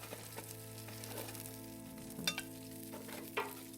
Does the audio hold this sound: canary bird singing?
no